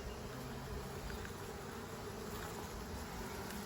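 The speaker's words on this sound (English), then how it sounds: "Another way to do this is to shake the bees into a tray." A steady, dense buzzing from a mass of honey bees inside an open hive, close and continuous for the whole stretch with no voices over it.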